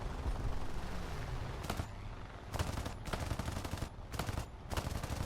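Short bursts of rapid gunfire in a video game fighter-jet dogfight, several separate volleys spaced a second or so apart, fairly faint against a low steady engine drone, with no talk.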